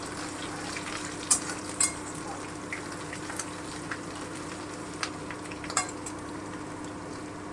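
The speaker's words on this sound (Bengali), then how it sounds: "এই যে আমার তেল গরম হয়ে গেছে এবারে আমি রসুন থেতোটা দিয়ে দিচ্ছি দু চামচ রসুন থেতো আছে একটু নেড়ে নিচ্ছি" Two spoons of crushed garlic fry in hot oil for chicken do pyaza, giving a low, steady sizzle with light spoon scrapes and a couple of faint metallic taps, heard close without talking.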